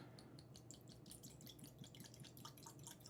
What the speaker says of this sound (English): So I'll just open it up and we shall pour it.